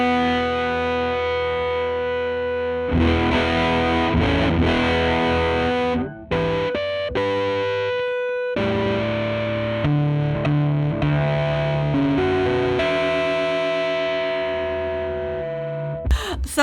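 Acoustic guitar run through a distortion-style effects pedal, strummed chords ringing loud and sustained with a gated, saturated edge, a few brief breaks between phrases, no talking.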